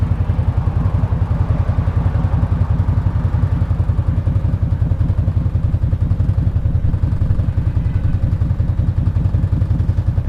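Idling engine of a Massimo MSU 850 crew side-by-side UTV while its cargo bed slowly raises, a steady close, even low chugging pulse that continues unchanged throughout, with no speech.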